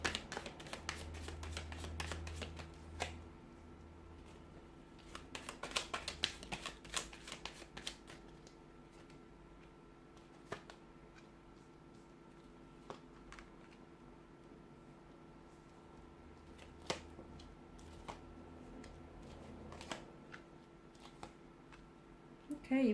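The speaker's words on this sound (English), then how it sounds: "So we'll give the cards a shuffle" Tarot cards are shuffled repeatedly, quick papery riffles and taps in bursts, close and fairly quiet in a still room.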